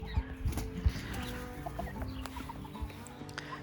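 Backyard chickens cluck and squawk in short, uneven bursts, with a few louder calls standing out over a quiet outdoor background and no speech.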